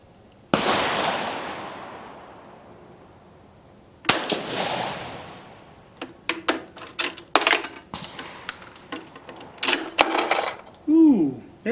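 A cartridge clip being loaded into a Vetterli rifle rechambered in 6.5 Carcano: two sharp metallic impacts ring out and decay, followed by a quick run of close, loud clacks and rattles of metal on metal.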